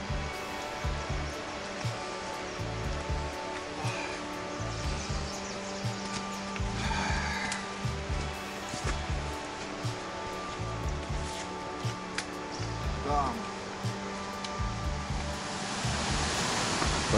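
The Barite waterfall and its mountain stream rush in a constant, dense roar of flowing water, loud and steady, alongside a repeating low mechanical throb, with no speech.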